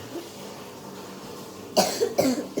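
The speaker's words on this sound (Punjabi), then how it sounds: "ਖਾਂਸੀ ਲੱਗੀ ਤੈਨੂੰ" A child coughs twice in quick succession near the end, after a stretch of quiet room tone.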